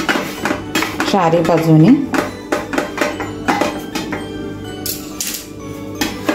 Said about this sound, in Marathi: पुन्हा आपण एकदा सुरीच्या साहाय्याने अशा कडा काढून घेऊया, सोडवून घेऊया